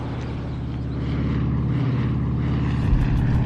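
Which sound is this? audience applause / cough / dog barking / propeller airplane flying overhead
propeller airplane flying overhead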